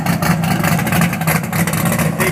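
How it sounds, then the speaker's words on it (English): A car engine with 4-inch exhaust and Flowmaster Outlaw race mufflers rumbles loudly and steadily after a cold start, a deep continuous drone heard close up with no talking. "It's 4-inch exhaust with a Flowmaster Outlaw race mufflers."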